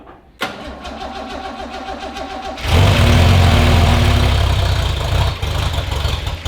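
A Holden HG car engine cranks with a whirring starter, catches and roars to life with a loud burst, then settles into a steady, rumbling run close by, with no speech.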